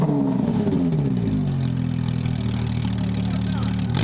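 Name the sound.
4-liter six-cylinder car engine revving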